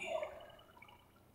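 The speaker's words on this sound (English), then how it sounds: "we've got this waterfall running to this neat little water feature" Faint, steady trickle of running water from a waterfall feeding a small water feature in the video game Minecraft, a soft continuous wash that fades slightly over the short stretch.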